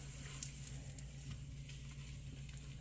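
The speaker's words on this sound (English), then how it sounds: "we are frying up my last 2 pieces" Gentle, steady sizzling and light crackling of bread frying in butter in a pan, close by, with a low hum underneath and no talking.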